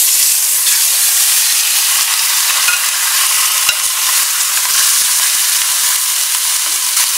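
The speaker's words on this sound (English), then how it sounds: "now we're going to go ahead and flip so it can sear on the other side" Birria meat sears in a pan with a loud, constant hissing sizzle that stays even throughout, with a few faint clicks; no one talks.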